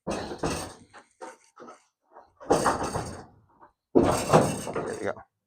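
Voices talk and call out while a door is taken off a 1970 Dodge Challenger during a teardown. There are clanks and thunks from handling the door, with a louder metallic knock near the end.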